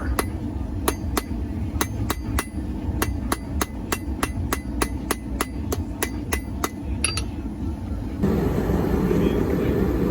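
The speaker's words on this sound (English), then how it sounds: "flip it around and now hit the corners on the anvil" A hammer strikes square bar stock on an anvil during forging, working the corners, with about twenty sharp ringing blows in a steady, fairly quick rhythm, close and loud over a constant background rumble that shifts near the end.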